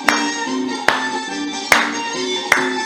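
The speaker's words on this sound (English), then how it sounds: "And clapping." Hands clapping in a steady slow beat during a fast circle dance, four sharp claps spaced evenly over lively music.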